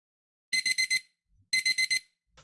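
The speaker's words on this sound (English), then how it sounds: "The sound of the alarm clock waked me up from my sleep." An alarm clock rings in two sharp bursts of four rapid electronic beeps each, loud and close, separated by a short pause, with a brief final beep at the end.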